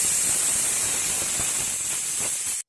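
Pressure cooker hissing out steam after its whistle, a loud, steady, airy rush that continues unbroken, then stops abruptly.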